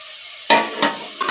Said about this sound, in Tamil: 2 நிமிஷம் வதக்கட்டும்